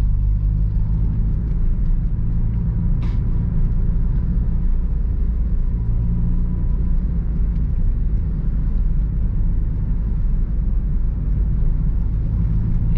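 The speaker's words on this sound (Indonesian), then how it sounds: "Ini masuk gigi 3 bos. Kerasa mobil itu meraung gitu." A manual car's engine rumbles loudly and steadily while pulling in third gear, a continuous low drone filling the whole stretch with no talk.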